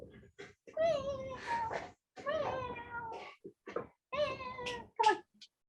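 A male house cat meows again and again indoors, close and fairly loud, with a string of short and drawn-out cries separated by brief pauses.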